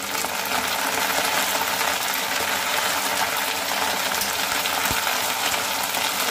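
Potatoes, green chili and eggplant fry in a pan, giving off a steady, close sizzle that holds evenly throughout, with a faint clatter near the end.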